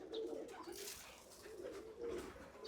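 Pigeons coo in repeated low, throaty phrases at close range, with a few faint chirps mixed in and no talk over them.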